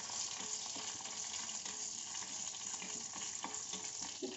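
Black mustard seeds and curry leaves temper in hot oil for a dhokla, a quiet, continuous sizzle with light stirring scrapes and occasional small pops, heard alone.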